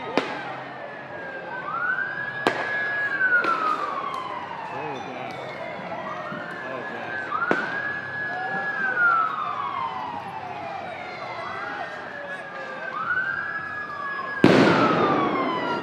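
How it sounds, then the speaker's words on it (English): Police shots zinging at a Portland protest, several sharp whistling projectiles rising and falling in pitch, spaced a few seconds apart, with loud cracks at the start and near the end over a distant crowd murmur. "every zing you hear is a shot"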